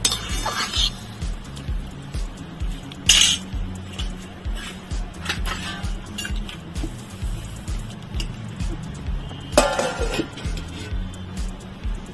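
Metal pot lid set down onto a cooking pot of potatoes and yardlong beans, giving two sharp clinks, one early and one near the end, over a steady kitchen hum and faint background sounds.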